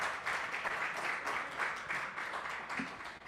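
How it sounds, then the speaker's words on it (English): A live-podcast audience at Fieldwork brewery applauds, a fairly light round of clapping that holds steady for a few seconds at moderate distance, with no talking over it. "Everybody give him a round of applause."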